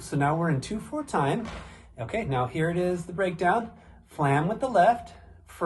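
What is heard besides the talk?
No everyday noises stand out.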